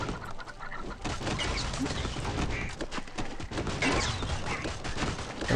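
Chickens clucking in the mobile swamp-defense game Swamp Attack 2, a busy layer of clucks and cackles mixed with game effects and bursts like gunfire, with a voice speaking now and then.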